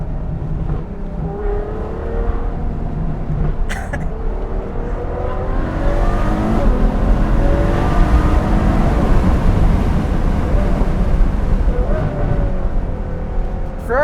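A Ferrari FF drives past with a rising and falling engine note and a deep exhaust burble, plus a few sharp crackle pops. The sound stays loud and close throughout, with no talking.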